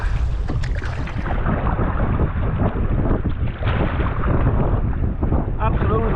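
Strong wind roaring and buffeting the microphone on open water while kayaking in the Scottish Highlands, a steady, loud, unbroken rush that drowns out the quieter splashes of the boat.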